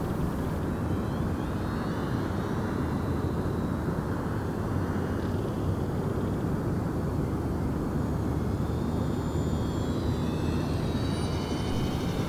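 An E-Flite UMX Twin Otter RC model plane with AS3X flies outdoors, giving a steady, continuous whirring drone with constant wind rush and no clear breaks.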